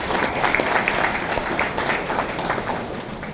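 An audience at a college admission camp applauds students, producing steady, moderately loud clapping from many hands that stays even for several seconds without pause.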